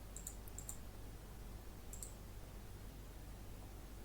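Mouse clicks in a Microsoft WordPad print dialog on a computer, a few quick clicks in a tight cluster early on, then another pair about two seconds in, over a steady low hum and faint hiss.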